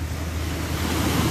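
Sea waves wash steadily onto a shore where fish are jumping, a loud continuous surf roar mixed with wind buffeting the microphone, with no voices.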